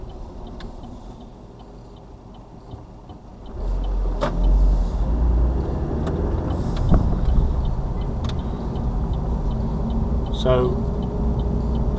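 A car driving on a busy roundabout, steady engine and road rumble rising after a few seconds, with a ticking indicator audible, under a voice in the cabin.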